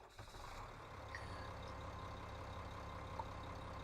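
Tractor engine in Farming Simulator 15, a basic Ursus tractor with no front weight, running with a steady low idling drone alone, fairly quiet throughout.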